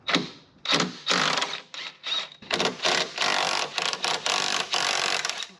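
Ratchet working mount bolts loose on a Subaru Impreza WRX STI during a rebuild, a run of rapid clicking bursts separated by short pauses, close and fairly loud, with no talking.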